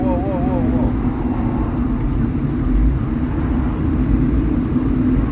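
A dump truck's engine rumbles in traffic, heard from inside a car following close behind: a steady, loud, low roar that runs without a break while a person talks.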